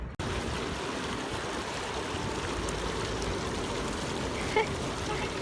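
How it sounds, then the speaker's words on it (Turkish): A small waterfall trickles and splashes steadily outdoors on a morning walk in nature, a close, even wash of flowing water that carries through the clip with no clear voices. "Şimdi Eymen mini şelale istiyor."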